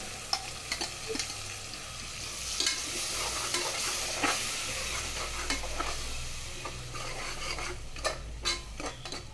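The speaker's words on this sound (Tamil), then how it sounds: "பேஸ்ட் நல்லா வதங்கட்டும்." Ground tomato paste frying with ginger garlic paste for a chickpea masala gravy, a continuous close sizzle broken by repeated spoon scrapes and clinks against the pan at an uneven pace, fairly loud, with no talking.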